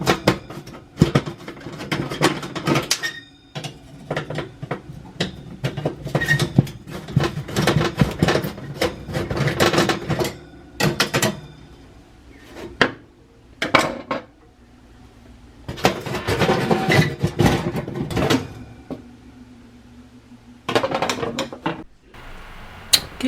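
Quarter-inch screws coming out of an oven heating element on a Hotpoint, Kenmore or GE range: close metallic clicks, ratcheting and clattering, with brief handling knocks in uneven bursts and short pauses, no talking.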